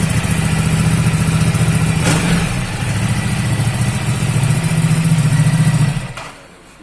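A Ducati Multistrada 950 motorcycle engine is revved close up, giving a loud, continuous pulsing roar that rises and eases slightly before dropping away at the end.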